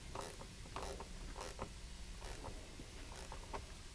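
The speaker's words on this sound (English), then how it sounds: "We're going to tighten these bolts." A size 10 ratcheting gear wrench tightens the inner fender liner bolts on an Acura, giving quick runs of close, crisp ratchet clicks in a steady rhythm with no talking.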